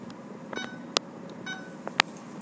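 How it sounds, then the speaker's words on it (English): A kitchen timer being set gives off several short, sharp electronic beeps at irregular intervals, close and clear with no talking. "And set your timer for 10 more minutes."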